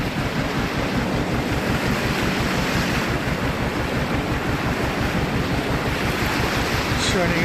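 A narrowboat propeller churns canal water on the Ashby Canal near Nuneaton, a steady, dense rumbling wash with a pulsing low throb, continuous and fairly loud, overlaid with wind noise on the microphone.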